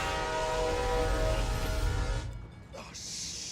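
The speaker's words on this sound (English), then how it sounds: "there's a train coming" A train approaches in The Run video game, its loud sustained horn tones ringing over a deep rumble for about two seconds before cutting off, followed by quieter game sounds.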